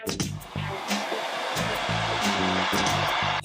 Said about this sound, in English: I'm going to work on drying the roots a little bit